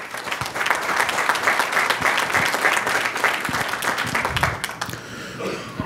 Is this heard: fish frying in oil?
no